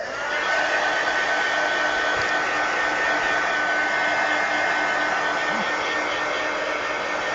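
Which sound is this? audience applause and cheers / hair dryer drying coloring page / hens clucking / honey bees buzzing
hair dryer drying coloring page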